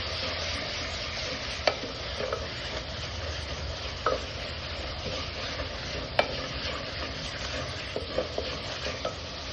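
Curry leaves sizzle and fry in a pan while being stirred, with a steady close crackle and occasional sharp scrapes of the spatula against the pan.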